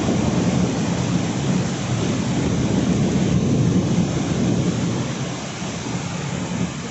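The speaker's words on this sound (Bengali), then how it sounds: "বৃষ্টি হবে না করে ফাইনালি বৃষ্টিটা হলো" Heavy rain pours steadily during a night thunderstorm in a parking area, a dense loud hiss of falling water with deep rumbling thunder rolling beneath it, easing slightly toward the end.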